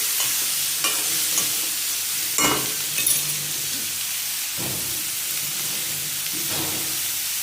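Food roasting in a hot pan for a bottle gourd and buttermilk sambar, a continuous close sizzle and hiss broken by a few scraping stirs of a spoon against the pan.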